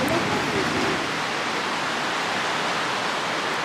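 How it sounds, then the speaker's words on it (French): A waterfall roars as a dense, steady broadband rush, constant and fairly loud throughout with no break. "D'ici on peut déjà voir la cascade."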